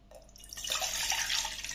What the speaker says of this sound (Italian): metto l'acqua all'interno di un pentolino